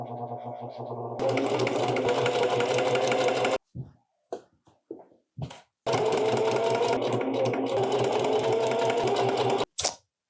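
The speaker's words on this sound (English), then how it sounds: "there's my edge stitching" Sewing machine edge stitching a seam on Lane Pants, fast continuous motor whir in two long runs separated by a few short bursts and pauses, close and alone.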